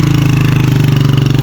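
A motorbike engine labours up a steep mountain track near Jarogo Waterfall in Swat, running loud and close with a steady, throbbing low chug that never lets up.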